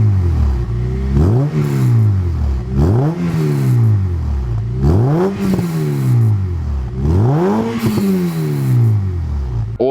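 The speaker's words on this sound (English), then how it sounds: "And this is the sound of this Fujitsu exhaust." Honda Civic Type R EP3 with a Fujitsu exhaust and DC Sport 4-1 manifold, revved repeatedly from idle in four or five sharp rising blips that fall back between pulls, loud and close.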